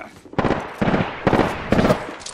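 Automatic gunfire from an Apex Legends match, fired in four short bursts of several rapid shots each, with brief pauses between bursts, moderately loud and close.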